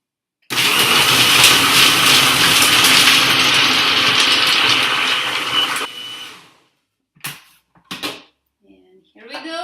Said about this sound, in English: Now all we need to do is to blend it well in a food processor